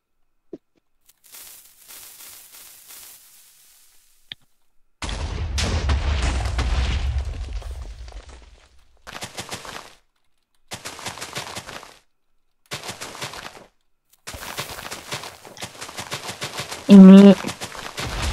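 Explosions in a Minecraft game: a big booming blast with rumbling debris, followed by a series of shorter crackling detonations in uneven bursts, with brief chatter of players talking between them.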